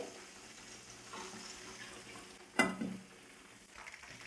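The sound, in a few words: chicken pakora deep frying in oil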